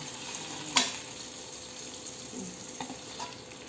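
Chicken grilling in a covered pan at home gives a soft, steady sizzle and crackle, with one sharp clink near the start and a few faint pops after it.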